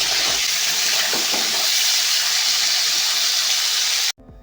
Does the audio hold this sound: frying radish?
yes